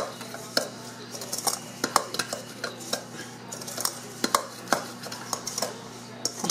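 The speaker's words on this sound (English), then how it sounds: "We're going to mix it all together." A spoon stirs chocolate mocha cappuccino mix in a pint jar, with steady scraping and stirring and repeated sharp clinks of metal against glass, close up, with no talk.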